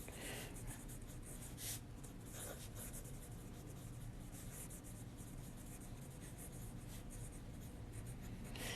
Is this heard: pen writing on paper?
yes